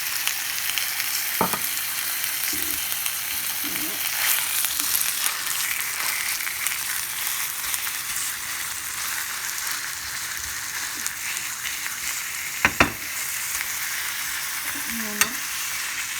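Minced meat tipped onto caramelised shallots sizzles steadily in a pan, a continuous frying hiss with occasional stirring scrapes and a sharp clatter near the end.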